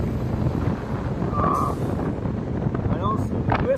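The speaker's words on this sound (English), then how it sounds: "The wind is just whipping." Strong wind whips across an open outdoor spot, a steady rushing roar buffeting the microphone throughout, with a few faint chirps and distant tones on top.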